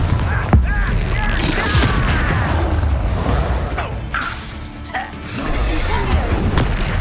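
Confringo blasting spell explosions in the Hogwarts Legacy video game, loud booming blasts and crackling impacts amid dense battle noise, with voices shouting over the fight.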